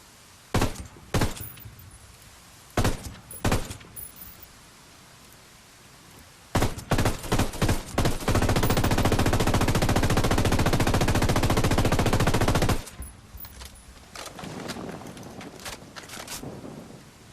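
Machine gun fire in Ghost Recon Wildlands: a few short separate bursts, then a loud sustained stream of automatic fire lasting several seconds, followed by quieter shots and background rumble.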